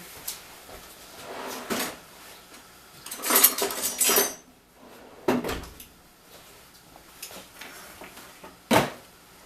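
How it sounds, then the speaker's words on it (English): Kitchen drawer sliding and utensils clattering as a set of tongs is grabbed, with several separate bursts of metallic rattling and knocks, fairly close and loud, separated by quiet pauses. "let me grab a set of tongs"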